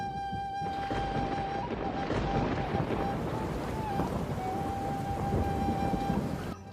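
Steady rain pours down with a low rumble of thunder rolling underneath, continuous and fairly close, with no talking.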